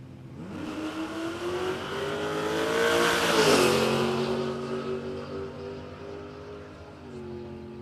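A nitrous-fed Holden one-tonner roars at a no-prep drag strip, its engine climbing through a long rising rev that peaks mid-run and then holds, loud and close, with no talking.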